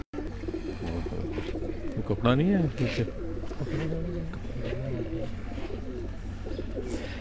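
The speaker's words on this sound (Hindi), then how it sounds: "ये दोस्तों ब्रीडर कबूतर हैं सारे" Breeder pigeons coo in repeated soft, throaty rolling calls, several birds overlapping close by, while someone speaks briefly over them.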